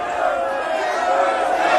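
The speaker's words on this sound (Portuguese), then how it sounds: "Quando a multidão ouviu isso, ficou furiosa e começou a gritar" An angry crowd in Ephesus shouts in a dramatised reading of Acts 19: a dense, steady roar of many voices yelling together, loud and unbroken.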